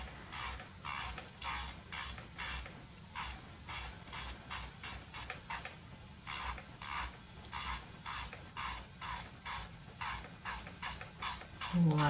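An electric nail file buffs the shiny top coat off nail polish with a faint, steady hiss, broken into quick repeated bursts as the bit passes over the nail.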